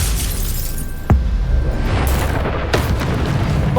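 A Bombarda blasting spell going off in Hogwarts Legacy gameplay: a loud, sustained rumbling blast with two sharper cracking bursts about a second and a half apart, filling the whole mix.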